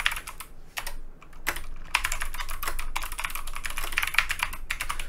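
Close typing on a computer keyboard, rapid clusters of crisp key clicks with short pauses between bursts, then a fairly continuous run of keystrokes to the end.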